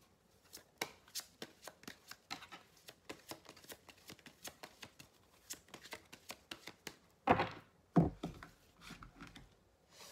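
Oracle guidance cards being shuffled by hand, a quiet close series of soft flicking riffles in an irregular rhythm, with two louder slaps near the end.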